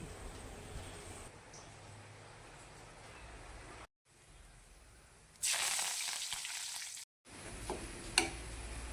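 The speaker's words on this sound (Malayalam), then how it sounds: "നമുക്ക് ഉലുവയും കറിവേപ്പും പൊട്ടിച്ച് ഇതിലേക്ക് തളിച്ചെടുക്കാം" Fenugreek seeds and curry leaves splutter in hot oil for a tempering, a faint continuous crackling sizzle that cuts out twice and swells louder near the end, close and without talk.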